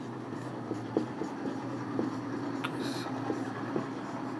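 A theorem statement is written out, with faint scratchy strokes and soft taps over a steady low hum in a quiet classroom.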